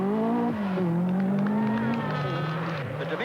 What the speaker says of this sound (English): Determined Rural's masterful handling of the Audi makes a spectacular sight